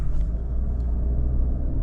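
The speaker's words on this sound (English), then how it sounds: "pretty aggressive sounding turbo noises for just an intake" Cheap Italian sports car with an aftermarket intake, a steady low engine rumble with a faint turbo whoosh heard from close by, continuous for the whole short stretch.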